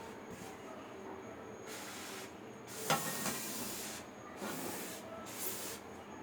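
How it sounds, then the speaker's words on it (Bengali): Flour-coated chicken fries in hot oil for a Chinese-style chicken fry, giving a soft, fairly faint hiss that swells into several sizzling bursts, with one brief sharper crackle. "এখন আমি চিকেনগুলো ভেজে নিব।"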